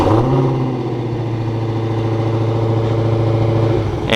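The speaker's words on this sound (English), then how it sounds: "let's listen to that V8." A Dodge Challenger SRT Hellcat Redeye V8 with dual exhaust fires up by remote start and settles into a loud, deep, rumbling idle close by, with a brief rev rising at the end.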